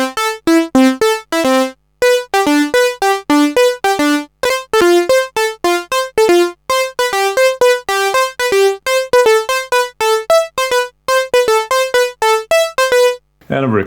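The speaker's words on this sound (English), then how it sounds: "And now it's time for the very important synth lead riff." A Korg Volca Keys synth lead riff in unison mode with slight detune plays a fast, rhythmic uplifting-trance melody of short, bright, buzzy staccato notes, steady and loud throughout before stopping near the end.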